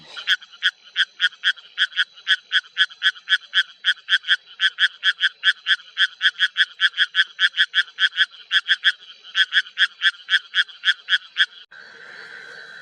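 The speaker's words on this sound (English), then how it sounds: "Ornate burrowing frog." An ornate burrowing frog calls in a fast, steady series of loud, pulsed notes, repeated dozens of times, then stops, leaving faint background noise.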